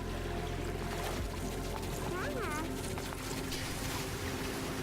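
Water gushes out inside an Oxygen Not Included base, a continuous rushing, trickling pour with a few chirpy game blips over it, moderately loud and steady throughout.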